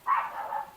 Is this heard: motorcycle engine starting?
no